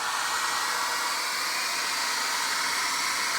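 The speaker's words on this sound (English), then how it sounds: "Let's grab the blow dryer." A Conair blow dryer runs steadily as it heats plastic window shrink film from a Frost King insulation kit, giving a close, continuous airy whoosh with no talk.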